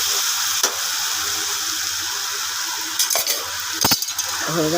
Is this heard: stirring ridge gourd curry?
yes